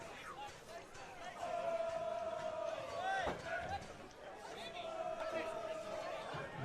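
A big crowd on the terraces at Goodwin Park during a National Premier League football match between Olympic FC and Lions FC, a steady murmur of chatter with whistles and shouts rising and falling, heard from a distance, with commentary talk over it.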